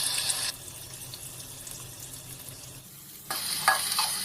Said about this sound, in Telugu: నూనె వేడయ్యాక కట్ చేసుకున్న ఉల్లిపాయలు, పచ్చిమిర్చి వేసుకోవాలి.